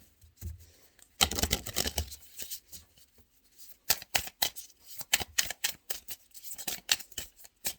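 Tarot cards being shuffled and drawn by hand, a quiet run of rapid papery riffles and flicks in bursts with short pauses between.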